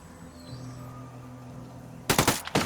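A sniper rifle fires in a tactical shooter video game set against the Santa Blanca cartel, a sudden loud crack at about two seconds followed by a few echoing bursts, after a quiet stretch of low ambient hum.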